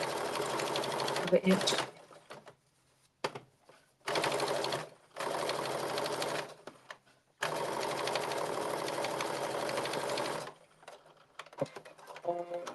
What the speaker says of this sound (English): So I'm just gonna edge stitch it closed.